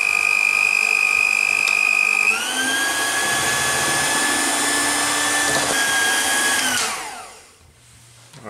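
An electric mixer whirs loudly, mixing zebra cake batter with baking powder in a Cookeo, its motor pitch stepping up partway through before spinning down and stopping.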